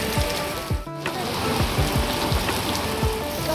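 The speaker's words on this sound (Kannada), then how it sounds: "ಜೋರಾಗಿ ಮಳೆ ಬರ್ತಿದೆ ನೋಡ್ತಿದ್ದೀರಾ, ನಮ್ಮ ತುಮಕೂರಲ್ಲಿ ಎಷ್ಟು ಜೋರಾಗಿ ಮಳೆ ಬರ್ತಿದೆ" Heavy rain pours down in Tumakuru, making a dense, constant roaring hiss. A few brief, faint chirping or creaking sounds come through the downpour.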